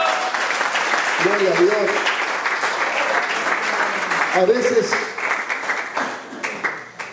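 A church congregation claps and applauds in a dense, sustained wash that tapers toward the end, while a preacher keeps speaking over it.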